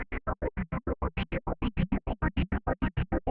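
Audiobro SILVER library patch sliced into quick 16th-note chops with filter and delay added, a fast even train of gated pulses whose tone sweeps gently, echoes slightly smearing the gaps between hits.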